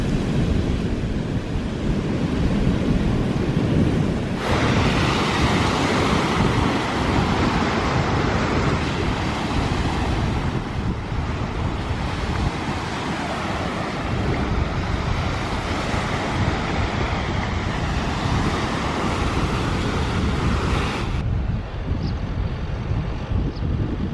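Sea waves wash onto a soft sandy beach on Öland, Sweden, a steady broad roar of surf mixed with gusting wind buffeting the microphone, loud and continuous with no talk.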